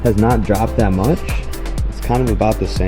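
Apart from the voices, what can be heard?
No distinct noise like a dog, phone or traffic.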